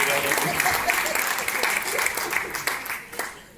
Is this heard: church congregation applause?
yes